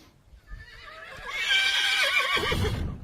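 A two-year-old male horse at the Moulins 2010 horse show gives a loud, drawn-out whinny that rises and trembles before ending in a low snort, with faint hoof movement beforehand.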